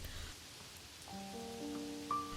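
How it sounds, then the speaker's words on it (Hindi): Light rain falls over a village as a faint, soft, steady hiss. Sustained musical tones fade in partway through and sit above the rain. "कुछ दिनों बाद गांव में हल्की हल्की बारिशें शुरू होती है।"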